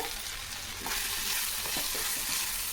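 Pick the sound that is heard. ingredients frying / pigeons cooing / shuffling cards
ingredients frying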